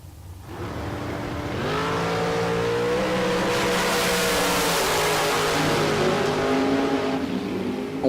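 Dragster launching at a bracket race at the Texas Motorplex drag strip, engine building quickly from a low idle into a loud, sustained roar with climbing pitch, heard close and without talk.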